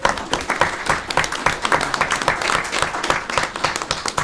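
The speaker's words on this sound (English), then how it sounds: "Give her a round of applause." A round of applause from the audience at a Board of Commissioners meeting, a steady wash of clapping hands that stays fairly even and close throughout.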